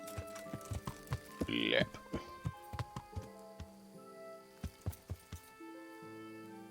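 Horse hooves clip-clop at a steady riding pace in Kingdom Come: Deliverance, a string of sharp rhythmic thuds over soft background music, with a brief voice in between.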